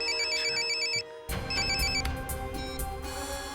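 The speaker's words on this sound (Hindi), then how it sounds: "अभिजीत का फोन था" A telephone rings in a police office scene, a repeating electronic ringtone pattern that cuts off briefly and then resumes louder with background music and room noise underneath.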